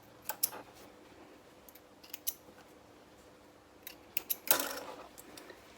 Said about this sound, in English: And trim the threads.